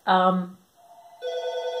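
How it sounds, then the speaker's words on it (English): An indoor telephone rings in two short electronic bursts with a brief gap between them, loud and close, with no talk over it. "My phone's ringing."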